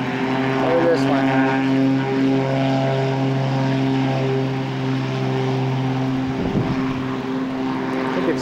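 Propeller airplane droning steadily overhead above the Grand Canyon, a loud sustained engine hum with strong harmonic tones throughout, while people talk nearby.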